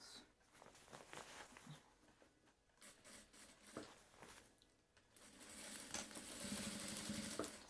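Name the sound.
sewing machine stitching a notebook bag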